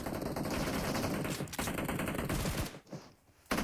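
Sustained rapid automatic gunfire from PUBG Mobile during a team deathmatch in a 2024 PMSL EMEA esports match. The bursts are dense and close, with a brief dip near the end before firing resumes.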